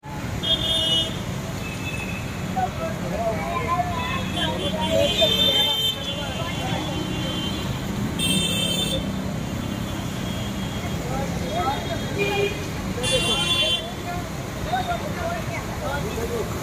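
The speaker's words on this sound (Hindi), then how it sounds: "हाँ ट्रैफिक बहुत है" Heavy road traffic in Mumbai: a constant rumbling roar of engines, with several short car-horn toots breaking through at intervals and voices faintly mixed into the din.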